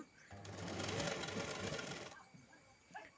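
A sewing machine stitches a blouse lining in one continuous run of close mechanical whirring lasting about two seconds. A voice talks over the stitching.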